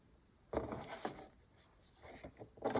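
A pen drags firmly across paper to score a fold line on a hot chocolate box, making close, scratchy strokes in a few short bursts, heard alone.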